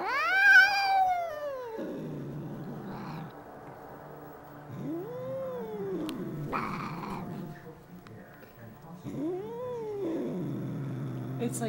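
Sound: angry cat growling and yowling

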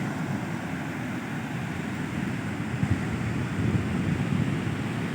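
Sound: big ocean waves at the beach

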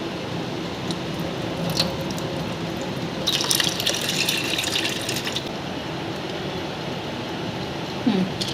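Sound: water poured over lentils

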